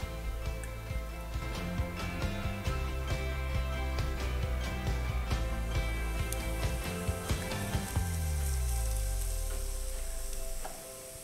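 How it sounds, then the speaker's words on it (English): Onions sautéing in olive oil in a pot for tomato soup give a steady, close sizzle with occasional stirring clicks and scrapes, fading toward the end. "we're gonna cook the onions until they are translucent for about 5 minutes"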